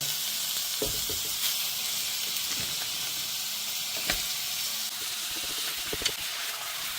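Minced meat frying with onions in a pan, a loud continuous hissing sizzle broken by occasional scrapes of stirring.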